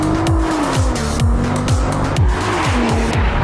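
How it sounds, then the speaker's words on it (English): A Nissan GT-R NISMO pulls hard under full throttle, its engine note loud and sustained with rising pitch sweeps between shifts, accompanied by tire noise throughout. "You put your foot down and it just takes off with so much aggression"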